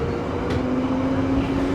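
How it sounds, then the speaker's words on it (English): Train arriving at a station in London, a steady loud rumble of wheels and rolling stock with a sustained tonal whine, no speech over it. "yes, the train's coming."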